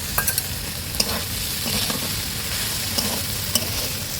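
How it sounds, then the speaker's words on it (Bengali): Chopped tomato added to a pan of frying potatoes and stirred, a steady sizzle with intermittent sharp clicks of a spatula against the pan. "এবারে এর মধ্যে আমি টমেটো যে কুচি করে রেখেছিলাম ওইটা দিয়ে দিচ্ছি"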